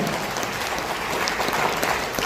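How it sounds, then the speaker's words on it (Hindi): An audience at an anniversary celebration bursts into loud, steady applause that stays dense and even from start to finish. "एक जोरदार ताली आपके लिए।"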